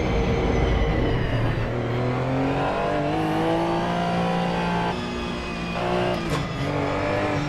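Several race cars in Assetto Corsa Evo pull out for practice, their engines droning steadily and shifting through gears as they accelerate away together, with no voices over the sound.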